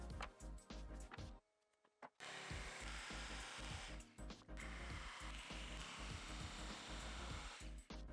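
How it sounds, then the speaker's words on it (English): A jigsaw cuts plywood with a loud, harsh buzzing that runs almost continuously, broken by one brief pause early on. "I rough cut it with the jigsaw"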